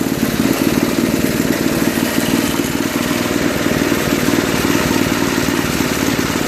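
A Toro 521 two-stage snowblower with a Tecumseh engine idles steadily at low throttle, a close, loud, even mechanical chugging and rattle running alone throughout.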